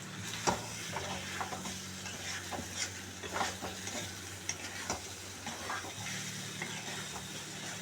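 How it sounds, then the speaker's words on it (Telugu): Chicken curry being stirred in a pan, with a spoon scraping and knocking against the metal over a soft, steady sizzle, the taps irregular and close. "కలుపుకోవాలి మూత పెడితే మెత్తగా అవుతాయి"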